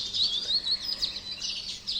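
Dawn birdsong from several small birds, with rapid high chirps and tweets repeating continuously at moderate distance in an otherwise quiet setting.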